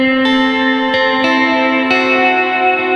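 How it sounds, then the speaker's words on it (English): Guitar run through a JHS Whitey Tidy, Walrus Audio Slotva reverb and Death by Audio Echo Dream delay, sustained shimmering chords with strummed attacks every second or so, washed in lush, steady reverb and echo trails, alone and close. "Here we have the JHS Whitey Tidy going into the Slotva reverb by Walrus Audio, and then we have the Death by Audio Echo Dream"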